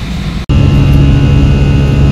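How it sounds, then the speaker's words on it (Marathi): A passenger airplane out of Pune climbs away toward Nagar Road and Wagholi, giving a loud, steady cabin engine roar with a brief dropout near the start. "हे नगर रोड वाघोलीच्या दिशेने उडालं आहे आमचं विमान"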